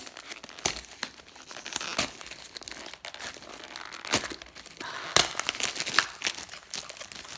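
Small packaged boxes from a shopping haul being unwrapped up close, with bursts of crinkling plastic and tearing packaging in uneven handfuls.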